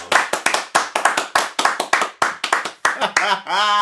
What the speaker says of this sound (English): Do we just start with a round of applause?